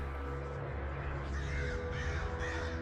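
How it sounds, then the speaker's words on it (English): Crows caw in the dark forest of the Darkwood video game, a few harsh calls over a dense, steady low ambient drone. "Crows will fly by, distracting you"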